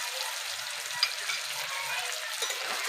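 Boiled moong dal with ginger, salt and a little sugar sizzles and crackles steadily in a pan as it is stirred and fried, a close, continuous frying hiss with soft scraping underneath and no voices.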